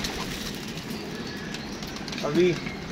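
Pigeon coos from a flock kept by a pigeon fancier, a short low cooing phrase near the end over steady background noise and faint talk.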